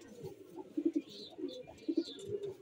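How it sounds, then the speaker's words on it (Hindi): Soft, throaty coos from a female Laldum pigeon come in short repeated pairs, close and fairly quiet, with a few faint higher chirps in the background. "वो कबूतरी है ये।"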